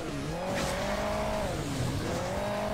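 A boosted car engine in the Hill Climb Racing 2 video game revs continuously, a steady buzzing drone that rises and dips in pitch, heard alone with no talk.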